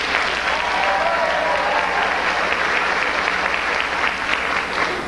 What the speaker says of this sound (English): Let's hear downstairs clapping.